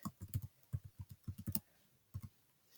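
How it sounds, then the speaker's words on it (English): A name being typed on a computer keyboard, a quick run of light, close key clicks in short irregular bursts with a brief pause before the last few taps. "So I'm going to type in her name"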